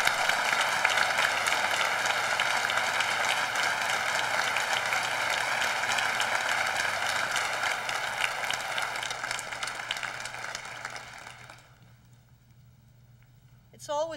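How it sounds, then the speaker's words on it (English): Sustained applause from a convocation audience honouring graduates at Mount St. Vincent University's spring ceremony, a dense steady clapping that holds for about eleven seconds, then fades out into quiet. "Please join me in a round of applause for our graduates."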